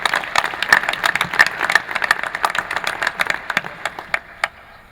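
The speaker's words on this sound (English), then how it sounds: "Let's give our city staff a round of applause." Scattered applause rises in a committee meeting room for city staff, a moderate patter of individual claps that thins and trails off.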